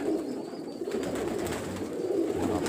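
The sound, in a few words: pigeons cooing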